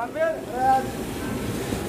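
Water rushes to drive a traditional water-powered flour mill that turns iron paddles beneath it, a steady broadband rush heard nearby, while a voice speaks briefly over it at the start.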